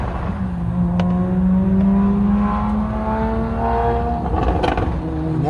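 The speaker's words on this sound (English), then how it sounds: "That would be a Porsche. Sounds cool." A Porsche engine revving, its pitch climbing through gears in rising sweeps, loud and fairly close, then easing off near the end.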